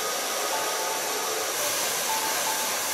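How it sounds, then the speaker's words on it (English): A hair dryer blows steadily and loudly while hair is dried with a medium brush, a constant close whooshing roar with no talk. "Take a medium brush of Ergo, start in the center, drying your hair."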